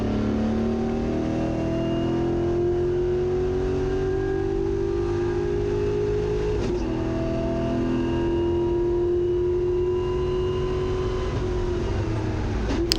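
A race car on its last lap at Carolina Motorsports Park in Gridlife Touring Cup racing, heard from inside with a loud, steady engine drone. It dips and rises through gear changes, and a sharp bump comes midway.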